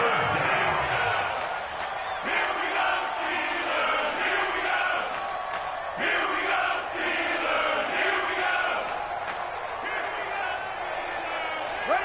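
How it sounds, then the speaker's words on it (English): Stadium crowd in an American football video game on PS4 roars steadily ahead of a big third down, a loud sustained wash of cheering with rhythmic surges throughout. "The crowd getting into it as we come up on a big 3rd down."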